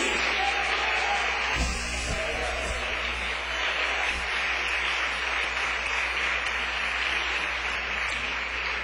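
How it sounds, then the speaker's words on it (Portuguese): Church congregation clapping for Jesus during a spiritual warfare service, a steady, dense wash of applause from many hands that continues without a break throughout. "E essas palmas sejam mais fortes para Jesus."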